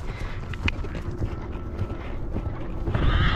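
Hooves of a mare, a former racehorse, cantering under a rider: a steady, rhythmic drumming of hoofbeats mixed with wind rush, growing louder toward the end.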